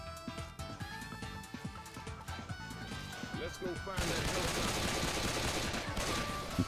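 Rapid pistol shots crack out in a zombie-filled level of Left 4 Dead 2 on its hardest difficulty, a steady string of sharp reports amid game noise and a talking voice, before the scene swells into a dense, continuous roar of chaos.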